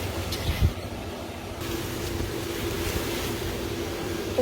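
Wind gusting outdoors around a 20 ft inflatable cat, a steady low rumbling roar with buffeting against the microphone, continuous throughout.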